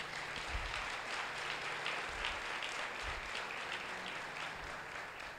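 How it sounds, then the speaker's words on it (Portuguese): A congregation applauds in church, a sustained, even patter of many hands heard from a slight distance, with a few low thumps underneath and no speech. "Você pode aplaudir o Senhor Jesus?"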